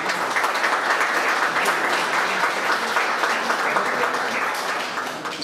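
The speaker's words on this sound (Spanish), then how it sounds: "pido un fuerte aplauso" Audience applause at a Dominican journalists' association event, a dense, steady wash of many hands clapping that holds loud for about five seconds before easing slightly at the end, with no talk over it.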